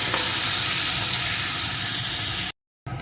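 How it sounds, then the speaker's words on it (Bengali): Boiled seeded banana, already salted and turmeric-coated, being stir-fried in a pan, giving a steady loud sizzle with stirring scrapes throughout, then a brief dropout of silence near the end before the frying resumes. "এখন কলাটা সুন্দর করে এইভাবে নাড়িয়ে নাড়িয়ে ভেজে নেবে"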